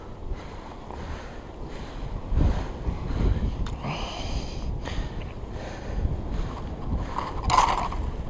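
Strong wind roars over a bay while someone is out fishing for pike from a boat, a continuous rushing buffet with microphone gusts and faint water sounds, loud and close.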